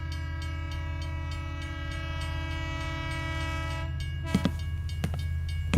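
A train approaching on rails, its horn sounding a long, steady chord over a low rumbling engine, followed near the end by sharp metallic clacks and squeals as it draws closer.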